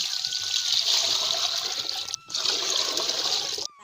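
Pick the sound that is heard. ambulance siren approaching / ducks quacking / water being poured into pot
water being poured into pot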